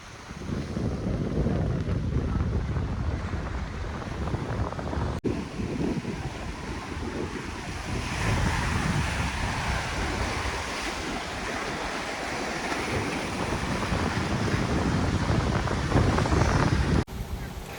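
Sea waves wash and splash over slippery rocks at Kadalundi beach near Calicut, Kerala, a steady loud surf roar with wind buffeting the microphone throughout.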